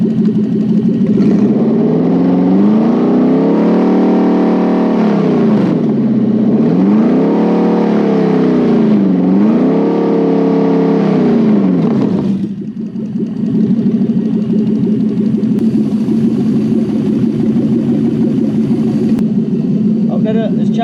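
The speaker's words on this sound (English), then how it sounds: "Let me bring the revs up and watch it." A jetboat engine idles, then revs up and down in three smooth swells before settling back to a steady idle, close and loud throughout.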